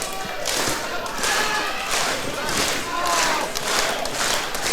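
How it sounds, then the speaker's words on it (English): Big arena crowd at the UC cheering and roaring steadily throughout a SLAM! Rumble wrestling event, a dense wash of voices with swells of shouting and occasional thuds from the ring. "Big crowd here at the UC getting right behind Cosmo"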